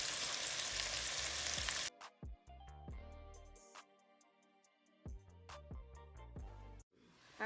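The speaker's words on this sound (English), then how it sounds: "we're going to let these brown on both sides on medium heat for about 3 to 5 minutes" Beef short ribs browning in a pot over medium heat, heard as a steady, fairly loud sizzle for about two seconds that cuts off abruptly, followed by tonal, music-like sounds with scattered clicks.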